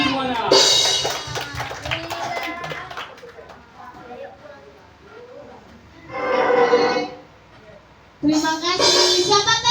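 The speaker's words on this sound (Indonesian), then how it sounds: "tepuk tangan semuanya" An audience at a church Sunday school Christmas celebration claps in two short bursts of applause after a person speaks to the crowd.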